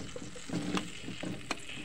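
Precooked, salted potatoes sautéing in melted butter in a pan, giving a soft steady sizzle with a few light stirring scrapes, fairly quiet and close.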